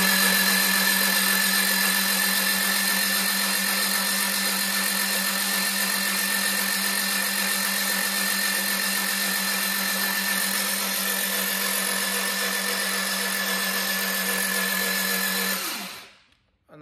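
A Classic Mini engine with a zero-tolerance oil pump is cranked over to build oil pressure, a loud continuous whirring drone held for about fifteen seconds before cutting off abruptly.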